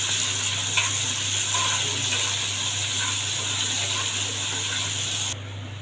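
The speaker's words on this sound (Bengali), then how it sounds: "এখন আমি ডাউলটা বাগার দিয়ে দেব" Garlic and onion sizzling in hot oil to temper lentils (dal), a steady close-up frying hiss running continuously under a low hum, then dropping off abruptly near the end.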